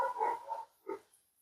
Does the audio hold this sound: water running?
no